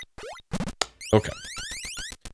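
Electronic chirps and rising synthesized sweeps from the Metroid II: Return of Samus Game Boy game, with short bursts, pitch-bending tones and a repeating beeping pattern, loud and close.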